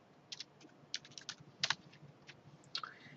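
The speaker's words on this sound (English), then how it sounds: "If I come here to B3, this is my active cell, and I type Monday" Light keystrokes on a computer keyboard as a word is entered into a spreadsheet cell: a short run of quiet, separate clicks in an otherwise still room, with no talking.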